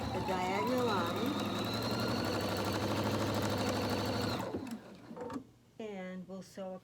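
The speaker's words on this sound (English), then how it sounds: "all you do is sew right on that red line that you made, the diagonal line." A sewing machine stitches fabric panels along a marked diagonal line, running as a steady, even whir for about four seconds before stopping, with a voice talking over and after it.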